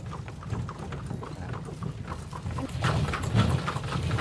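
Horse-drawn carriage hooves clip-clop on a road near Wat Phra That Lampang Luang in Thailand, a steady mid-distance rhythm that grows a little louder and busier toward the end, with no talking.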